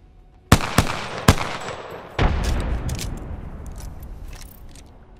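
In Apex Legends, a frag grenade is thrown: a few sharp cracks and clicks, then a heavier burst that fades into rumbling gunfire noise.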